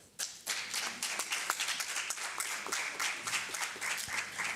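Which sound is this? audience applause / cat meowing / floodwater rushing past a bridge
audience applause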